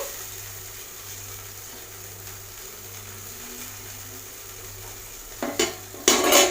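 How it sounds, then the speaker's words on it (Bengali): Fish added to a pan of boiling curry on a gas stove, a steady low bubbling simmer with a faint hum, then sudden louder splashing and sizzling bursts near the end. "ঝোলটা ভালোভাবে ফুটে গেছে এর মধ্যে আমি এবারে মাছগুলোকে দিয়ে দিচ্ছি"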